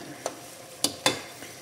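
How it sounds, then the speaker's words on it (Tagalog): Mung beans being stirred in a cooking pot, heard as a few sharp scraping strokes with soft bubbling between them, quiet and close. "Siyempre, mikos-mikos muna tayo."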